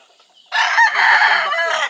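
A Boston Black gamefowl rooster crows loud and close in a backyard gamefarm, one long full crow after a short quiet lead-in.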